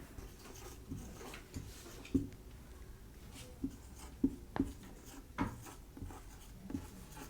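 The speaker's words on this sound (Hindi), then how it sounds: "तो कोई अगर नंबर लिखते हैं," Writing numbers on a board in a classroom math lesson, faint scratchy strokes and soft taps spread irregularly over several seconds, close and quiet with no talk.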